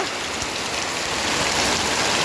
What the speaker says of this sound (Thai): ฝนจะมาตกยามนี้